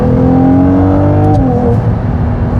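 A V6 car engine revs loudly and steadily from inside the car with the window closed, its pitch holding before sliding lower partway through.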